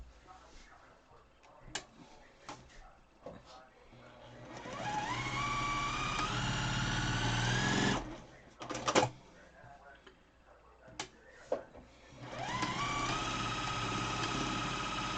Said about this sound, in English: so now you're going to sew these. You're going to sew along your darts